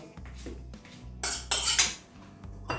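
Mixed pickle meze being served onto a plate, with several close clinks and scrapes of utensil against dish, three louder bursts in the middle, amid soft handling noises and no talk.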